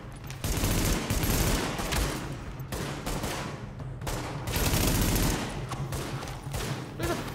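Gunfire fills a Tom Clancy's The Division video game battle, with pistol shots among dense bursts of rapid shots that come in waves, loud and continuous, with brief quieter gaps.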